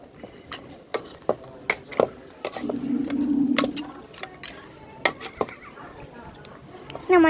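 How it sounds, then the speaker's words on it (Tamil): Goat head curry being stirred in a pot, with intermittent clinks and scrapes of a spoon against the vessel over a soft sizzle, while a person talks nearby. "தலை கறி போட்டாச்சு. இப்போ நல்லா நல்லா கிண்டிக்கலாம்."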